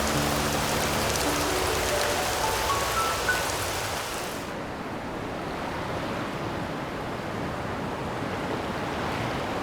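Steady rain falling in an outdoor setting, a dense continuous hiss with a bright high band that drops away partway through, leaving a softer, duller wash of rainfall with no voices.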